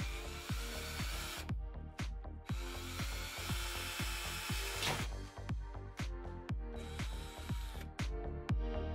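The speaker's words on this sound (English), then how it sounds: "Now we're just going to drill right through the case." A power drill running in steady bursts, its whine rising and dropping with repeated rhythmic clicks and thumps as it drills up close through a rivet in a metal retro gaming PC case.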